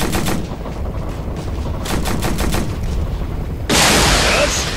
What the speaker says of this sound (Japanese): こちらアルファ、制圧射撃中。